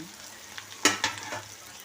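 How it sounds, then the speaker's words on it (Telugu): Sliced bitter gourd frying in oil in a pan, a soft steady sizzle with a couple of sharper crackles and stirring scrapes near the middle, close and fairly quiet. "సో ఇవి వేగేంత వరకు వెయిట్ చేద్దాం"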